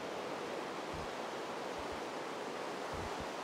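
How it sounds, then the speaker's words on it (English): Steady broadband rush of flowing water and lava in a Minecraft ravine, a continuous even wash with a few soft low thumps, heard alone without talk. "Maybe block off some of that water and lava flow."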